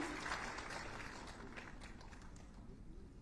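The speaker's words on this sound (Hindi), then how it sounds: "जोरदार तालियों से आप उनका अभिनंदन करें।" An audience applauds at a government event in Lucknow for model composite schools. The applause is steady, dense and fairly faint throughout, with no speech over it.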